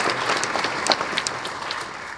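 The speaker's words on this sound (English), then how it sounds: "And let's give Rabbi Gruenwald and Athena a round of applause for their wonderful benedictions and prayers." An audience at an investiture ceremony gives a brief round of applause after benedictions and prayers, a scattered patter of clapping lasting about two seconds.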